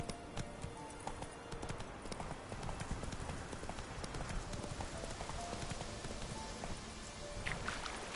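Roach, Geralt's horse in The Witcher 3, gallops with a fast, steady clip-clop of hooves that runs throughout over constant ambient noise.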